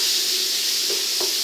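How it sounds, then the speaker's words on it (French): Chopped tomato hitting a hot saucepan for lentils with bacon, a loud steady sizzle and hiss as its juice deglazes the pan bottom, with a couple of faint spoon scrapes near the end. "On va déglacer, le jus va déglacer un petit peu le fond de la casserole."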